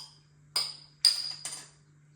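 A Hawkstone lager bottle is opened: three sharp metallic clicks and clinks from the bottle cap, close and distinct, over a steady low electrical hum.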